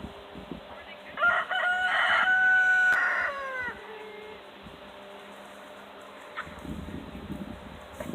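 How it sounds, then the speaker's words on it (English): A rooster on a family farm crows once, loud and close, a long drawn-out call with a falling end, followed by quieter outdoor background and faint clucking. "That's our new rooster."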